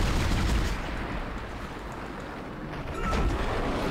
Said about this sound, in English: I'm gonna just go over here and shoot you in the back a whole bunch